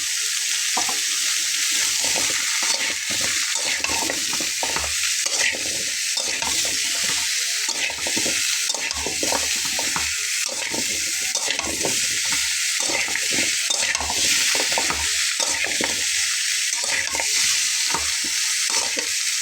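Pumpkin sautéing in a pan with salt and turmeric, stirred steadily: continuous loud sizzle with frequent scraping and clattering strokes throughout.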